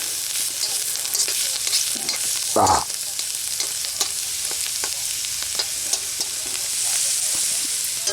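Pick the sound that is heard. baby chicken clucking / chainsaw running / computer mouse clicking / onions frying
onions frying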